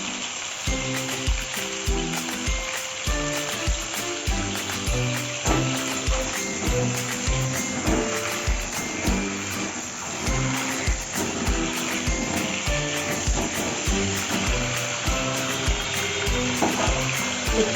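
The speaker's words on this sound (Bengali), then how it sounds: "পটলগুলো একটু হালকা করে ভেজে নেব" Pointed gourd (potol), lightly salted, frying in oil in a pan, giving a steady, continuous sizzle with occasional crackles, close and even throughout.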